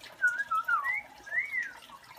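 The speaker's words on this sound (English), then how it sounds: "Whistle." A pet bird whistles a few sliding, warbling notes in two short phrases, clear and close against a quiet room.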